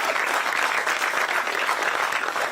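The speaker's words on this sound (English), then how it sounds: "That's a round of applause" Dense, steady applause from a large audience at a university system announcement of a new waterfowl research center, broadband and unbroken for the whole stretch with no voices on top.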